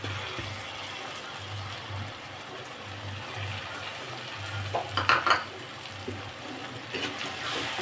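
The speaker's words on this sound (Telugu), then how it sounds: "టమాటా కూడా మగ్గింది ఫ్రెండ్స్ ఇప్పుడు రొయ్యలు వేసుకుందాం" Prawns go into a simmering tomato curry in a pan and get stirred, with a steady soft sizzle under occasional scraping and clinking of a utensil against the pan, growing a little busier near the end.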